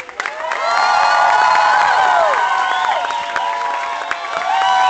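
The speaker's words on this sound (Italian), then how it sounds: "naturalmente tutti un applauso per Andrea." A concert audience at Roma Vintage cheers and whoops loudly for the guitarist, and the dense crowd noise holds steady throughout with scattered claps.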